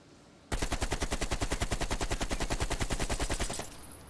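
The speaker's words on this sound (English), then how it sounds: "Let me just unload into this wall here, and let's see the recoil pattern." An AK rifle in Call of Duty fires one sustained full-auto burst into a wall, a loud, rapid, evenly spaced string of shots lasting about three seconds before cutting off, with no talk.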